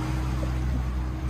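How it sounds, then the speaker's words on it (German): A speedboat engine runs steadily while crossing a harbour on the Baltic coast near Warnemünde, a loud, continuous low drone with wind and water rush. "Wir fahren mit dem Schnellboot."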